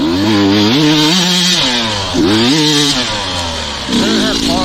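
A two-stroke dirt bike engine revs up and down in loud, rising and falling surges, close by, with a brief drop in pitch midway.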